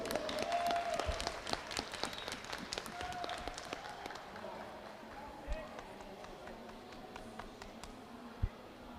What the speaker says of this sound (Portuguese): Eu queria uma grande salva de palmas